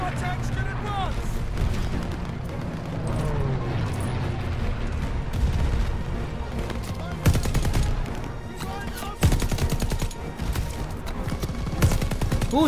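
Intense battlefield gunfire in a World War II trench assault from Call of Duty: Vanguard, with rapid machine-gun bursts and rifle shots crackling near and far, heavy booming blasts, and voices talking underneath.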